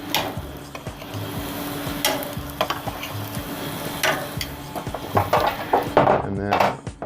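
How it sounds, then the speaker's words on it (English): Pork chops laid onto a hot grill alongside zucchini, giving a steady close sizzle with clinks and scrapes of utensils and pans. "I'm going to just put the pork chops down. I'm going to put those towards the back."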